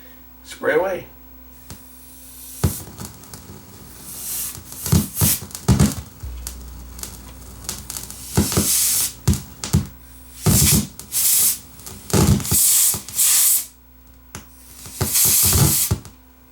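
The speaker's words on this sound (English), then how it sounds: "So here's my cold spray can." Short bursts of cold spray aerosol hiss repeatedly, each lasting about a second, with brief pauses between and occasional handling noise, used on a crackling Yamaha CA600 stereo amplifier.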